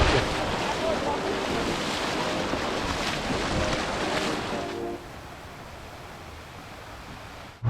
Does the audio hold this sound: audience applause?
no